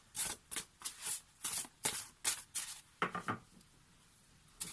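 Tarot cards shuffled by hand at close range, a series of soft papery riffling swishes in a steady rhythm followed by a few quicker flicks, quiet and alone.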